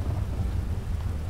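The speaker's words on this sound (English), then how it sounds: "Oh wow, look at the storm." Video game thunderstorm with a steady low rumble of thunder and rain hiss, continuous and fairly loud with no voices.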